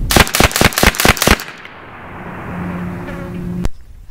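A BIN TAC S45 semi-auto air rifle charged to 3,600 PSI fires about eight rapid, loud, sharp shots in a quick burst at targets, followed by a fading ring and a steady hum.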